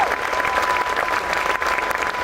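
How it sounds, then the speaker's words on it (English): Audience applause at a presidential event in New Mexico, a continuous dense wash of clapping at even loudness for about two seconds, with a faint steady tone running beneath it. "we could give them a round of applause"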